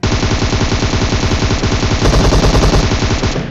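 Sustained rapid automatic gunfire in a video game, loud and close, a continuous rattling stream of shots with no pause across the whole stretch.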